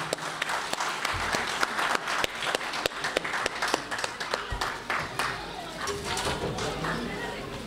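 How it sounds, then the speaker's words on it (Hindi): Audience applause at a community celebration event, steady clapping from a crowd filling the room, with some sharper individual claps standing out and faint voices mixed in. "तो ज़ोरदार तालियां हमारे सैयद अब्दुल हई साहब के लिए"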